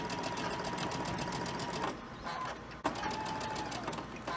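Sewing machine chain stitching quilt pieces, a loud continuous rapid mechanical whirr close by that stops briefly partway through and then starts again.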